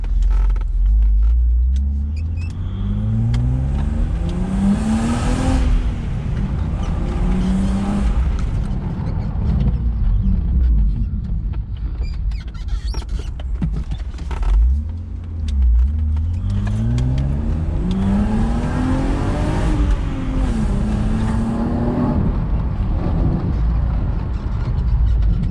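A BMW E36 accelerates hard on a test drive, its engine note climbing and dropping through several gear shifts in a loud, continuous, close-up drone with repeated rising sweeps.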